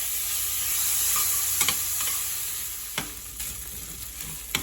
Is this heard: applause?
no